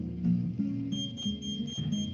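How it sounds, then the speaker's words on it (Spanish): A heat transfer press timer alarm beeps repeatedly in an even rhythm, a fairly steady electronic tone heard alone, with a low hum beneath it. "Cierra la plancha hasta que suene la alarma del tiempo."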